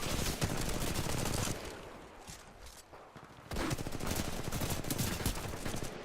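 Heavy automatic gunfire in the first-person shooter Titanfall 2 rattles in dense, continuous bursts, easing briefly in the middle before the firing resumes just as intensely.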